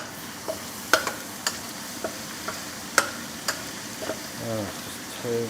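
Garlic, about ten cloves, fries in a wok while being stirred, with a soft steady sizzle under evenly spaced clicks and scrapes of a utensil against the metal, close and without talk.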